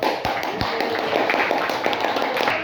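Students applauding at the end of a classroom lesson produce a steady, dense patter of many hands clapping, fairly close, with faint voices underneath.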